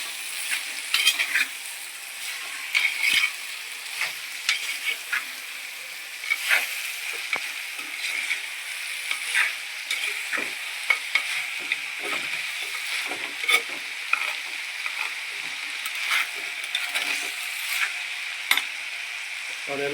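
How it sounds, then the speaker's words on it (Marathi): A spatula stirs jackfruit bhaji with curry leaves in a frying pan, a low sizzle broken by repeated scraping and tapping strokes, near and steady over twenty seconds without talk. "वरती थोडासा कढीपत्ता टाकला आपण आणि याला चांगलं मिक्स करून घ्यायचं आहे"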